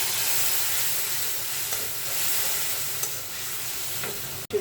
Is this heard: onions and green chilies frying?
yes